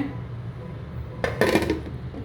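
A lid set down on a pot of soya chunk and potato curry gives a short metallic clatter with a brief rattle, standing out once against quiet kitchen background.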